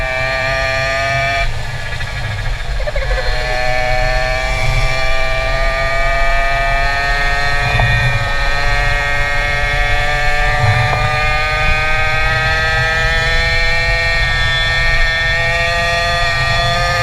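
A vehicle exhaust pipe drones loudly and steadily from start to finish, with strong low rumble and sustained harmonic tones that slide slightly in pitch, heard up close with no talking.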